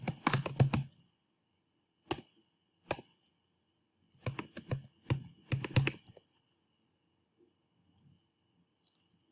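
Keys on a computer keyboard clatter in quick bursts, a close flurry of clicks, then a few lone taps and another cluster of typing, with quiet gaps between.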